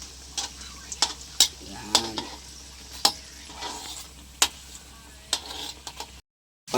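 Maling luncheon meat fries in hot oil, giving a steady sizzle broken by sharp clicks and scrapes from a utensil stirring and turning the pieces.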